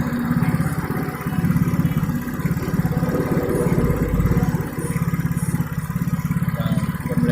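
A Yamaha XRIDE fuel-injected motorcycle engine idling close by, a steady low mechanical putter with light clatter that holds an even rhythm throughout, with no talking over it.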